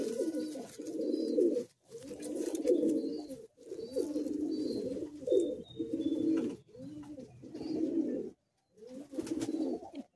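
Andhra pigeons coo close by in a series of rhythmic, throaty bursts separated by short pauses, loud and clear with no talking.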